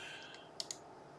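Two quick, light clicks close together from a computer mouse selecting a menu option, faint and close, over a steady low hiss.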